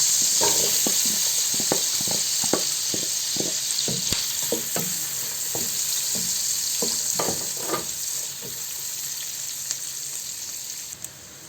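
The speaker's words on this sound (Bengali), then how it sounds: "বা আলমন্ড ফ্লেক্স সামান্য এগুলো এখন আমি একটু ভাজবো" Almond flakes fry in a hot pan with a steady, close sizzle and crackle, while a utensil scrapes and stirs them in short, irregular strokes over about eleven seconds.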